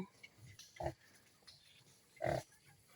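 Crossbred wild boar sow and piglets on a farm, giving two short, low grunts spaced apart amid faint background rustling, fairly close but quiet.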